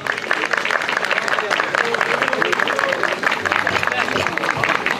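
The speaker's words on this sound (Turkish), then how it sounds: "Sayın İbrahim Erdem'i yine alkışlarınızla sahneye" An audience at a park opening ceremony applauds in a steady, dense patter lasting about five seconds, with crowd murmur blended in throughout.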